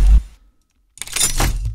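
A lockdown-style sound design hit for a title opens with a heavy low-end impact that cuts to near silence, then a dense, bright, noisy metallic burst swells back up loudly and sustains to the end.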